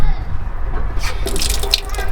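Water running from a tap at a free motorhome service area in Lessay, France, a steady splashing stream in the foreground with faint bursts of hiss on top.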